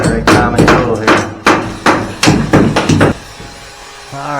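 A hammer drives a nail through PVC pipe, giving a rapid close series of about ten sharp, ringing strikes that stop abruptly near the end.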